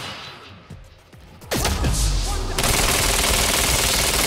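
Sustained, loud automatic gunfire from a second weapon in the shooter Quantum Break, erupting after a quieter start and continuing as a dense rapid stream of shots with crashing impacts.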